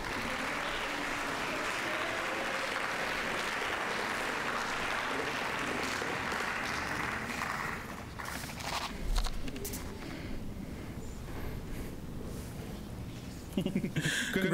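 An awards-ceremony audience at a junior science fair applauds first-place winners in Biological Science, a steady dense wash of clapping from many hands that fades out partway through, leaving a quieter hall with scattered knocks and shuffling.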